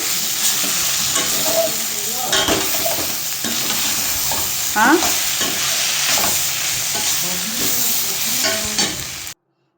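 A spoon scrapes and stirs pasta through tomato chili sauce in a hot pan, with a continuous loud sizzle and irregular scraping strokes running throughout.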